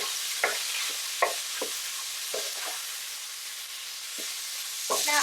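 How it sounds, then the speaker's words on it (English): Pork belly frying under a lid in a pan: a soft, steady sizzle with scattered sharp pops and spits breaking through at irregular moments. "We're cooking this with the lid on to get rid of the fat in the pork belly"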